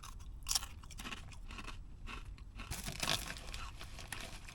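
Crunchy jalapeno cheddar snacks being chewed close to the mic, with several crisp bursts of crunching and scraping bites spread across a few seconds, fairly quiet overall.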